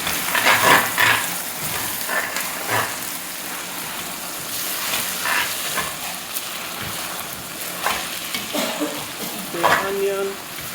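Onions fry in a pan for Senegalese chicken yassa, giving a steady sizzle broken by bursts of stirring and scraping, close and moderately loud with faint background voice.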